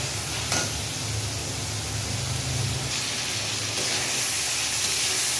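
Shrimp sizzles and fries in a pan of spice paste, a steady close hiss with brief stirring bursts and no talking.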